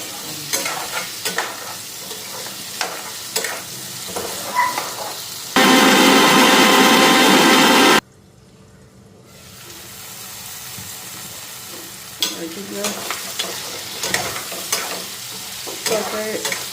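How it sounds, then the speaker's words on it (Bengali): Potato and squash pieces lightly frying in a pan at a picnic cook-out, with a steady close sizzle broken by stirring scrapes, a burst of loud hiss midway, then a quieter stretch before the stirring resumes. "আলু কোয়াশটা একটু হালকা ভেজে নিলাম"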